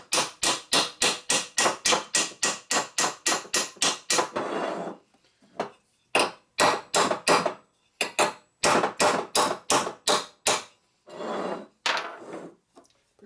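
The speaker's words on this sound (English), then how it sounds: "I used a ball peen in the center of the valve" A ball peen hammer strikes a rusty flathead valve in a 45-inch WL/WLA cylinder, first in a fast, even run of about twenty sharp metallic blows, then in irregular bursts with brief grinding or scraping pauses; close and loud, no talk.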